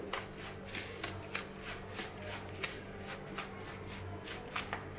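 Semolina and fresh curd being mixed in a bowl for spinach dhokla batter, giving soft repeated scraping and shuffling strokes in a steady rhythm, close and fairly quiet with no talk.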